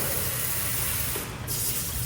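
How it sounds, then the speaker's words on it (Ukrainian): Water runs steadily from a washroom tap, a continuous close hiss with a brief dip near the end. "Ось тут вода, мило"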